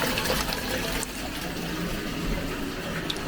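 Bath taps running hot and cold in a family bathroom, filling the tub with a loud, steady rush and splash of water that continues without a break.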